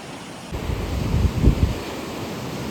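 Sea waves roll in at a stormy shore during cyclone weather, a continuous loud wash with heavy wind buffeting the microphone and a few stronger surges in the middle.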